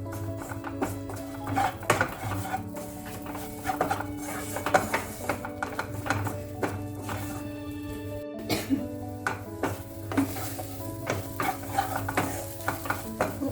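Store-bought masala spice powders are heated and stirred in a pan for a chole curry, with a soft sizzle under steady, irregular scraping and clinks of a spoon against the metal.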